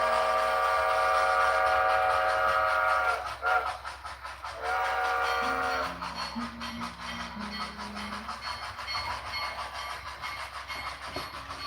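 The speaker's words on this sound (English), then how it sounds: "the demonic pigs make a lot of like squealing noises once the train goes over 5 miles per hour" Steam train in the Red Dead Railroad game rolling along with sustained high whistle-like squealing and clattering rail noise, loud at first and then easing into a rougher rumble with tonal squeals.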